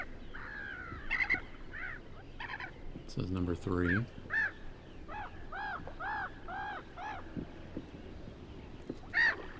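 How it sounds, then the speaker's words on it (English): Black-headed gulls call in a repeated series of harsh, nasal cries from a field-guide recording. A brief spoken voice comes in partway through. "This sounds like the black-headed gulls."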